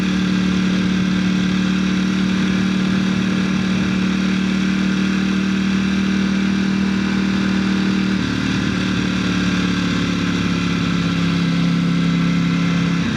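A 2018 first-year narrow-body V4S sport motorcycle engine running steadily up close, a loud continuous droning hum with a slight shift in pitch partway through, no voices.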